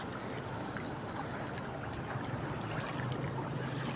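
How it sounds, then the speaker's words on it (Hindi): Floodwater surges through a village near a bridge at Taunsa Sharif, giving a steady, unbroken roar of rushing water that stays even and fills the whole stretch without a break. "खतरनाक पानी आ चुका है"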